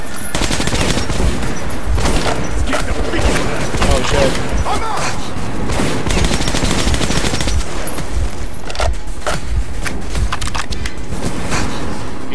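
Dense automatic gunfire from enemies in Metro Redux rattles continuously and loudly, with overlapping bursts and impacts filling the whole stretch.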